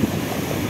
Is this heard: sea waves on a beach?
yes